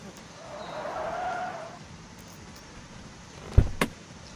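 A car drives in a video game with a brief rising skid or tire squeal, then two sharp thumps like an impact near the end, under low engine rumble.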